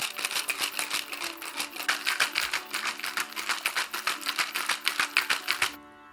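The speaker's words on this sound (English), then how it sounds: "Time to shake those beautiful drinks and to create the right kind of noise." Ice cubes rattle inside a cocktail shaker as homemade Diwali drinks of feni and gin are shaken hard, giving a fast, steady rhythm of sharp clattering pulses that stops abruptly.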